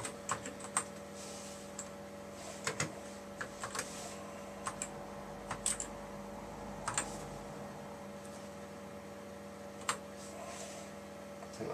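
Keys clatter on the keyboard of a vintage Research Machines 380Z computer, with irregular bursts and single taps over a steady electrical hum.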